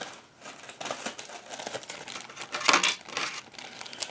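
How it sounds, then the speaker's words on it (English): Small oil pump parts from a Milodon small-block Chevy oil pump are dropped into a plastic Ziploc bag, giving close, crisp crinkling and rustling in uneven bursts, loudest near the end. "I'm going to put all these little parts in a Ziploc bag so that way I don't lose them"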